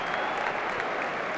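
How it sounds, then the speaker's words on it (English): Sustained applause from a stadium crowd of St Helens rugby league fans during a pause in play, steady and dense throughout with no distinct individual claps. "giving him a bit of an applause as well"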